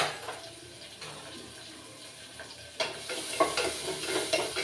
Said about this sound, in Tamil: அது கூட அந்த கட் பண்ணி வச்சுருக்க வெங்காயமும் பச்சை மிளகாயும் சேர்த்துட்டு அது வதங்கிட்டு இருக்க டைமில்